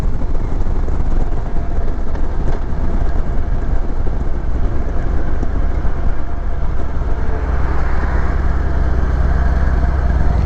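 A 2020 Harley-Davidson Heritage Classic motorcycle leans through a corner on the road, its engine droning steadily and loudly with constant rumble and wind roar for the whole stretch, the pitch swelling slightly toward the end.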